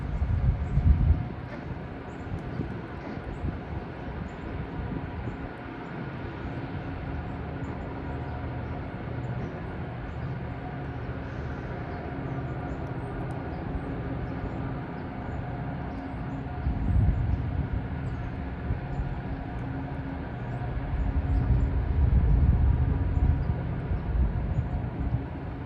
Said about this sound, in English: That's a heavy train.